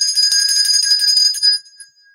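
A red bell rings with a bright, sustained metallic tone for about a second and a half, loud and close, then cuts off quickly with no talking.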